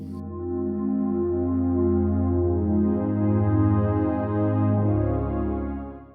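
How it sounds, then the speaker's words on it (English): An atmospheric synthesizer pad plays long sustained notes, smooth layered chords that shift slowly and swell gently, alone and moderately loud before fading out at the end. "and that is a pad sound."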